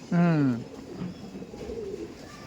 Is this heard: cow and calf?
no